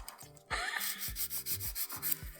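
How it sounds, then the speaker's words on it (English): Acrylic nails being buffed smooth with a 120 grit buffer, a close, repeated scratchy rubbing in uneven back-and-forth strokes with no talking. "So I'm just going to buff over now with the 120 grit buffer that I've got here."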